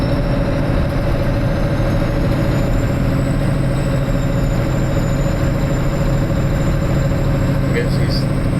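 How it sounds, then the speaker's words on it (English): A semi truck engine idles loudly and steadily up close, a constant heavy low rumble with a faint high whine above it and a brief hiss near the end that may be the air brakes. "I guess he could hear the truck pretty good right there."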